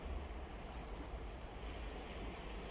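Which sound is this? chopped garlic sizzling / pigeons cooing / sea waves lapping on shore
sea waves lapping on shore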